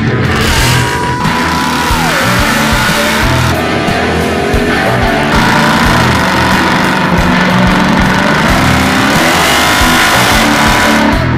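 A Ford Mustang GT with a 5-liter V8 engine, heard from inside the car on the road, a loud continuous engine roar with rising and falling revs throughout, with no talking.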